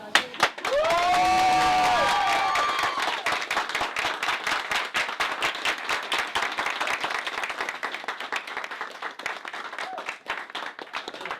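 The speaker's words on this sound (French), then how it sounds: "avant la représentation, on n'avait pas le droit de s'applaudir, maintenant on peut." A backstage theatre crew applauds itself after a performance, with a burst of cheering and voices at the start and then steady, fairly close hand clapping that gradually thins out.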